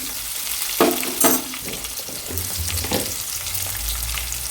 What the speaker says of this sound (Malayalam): പിന്നെ വെളുത്തുള്ളി, ചുവന്നുള്ളി, ഇഞ്ചി ഇതെല്ലാം കൂടെ നല്ല രീതിയിൽ മൂപ്പിക്കുകയാണ്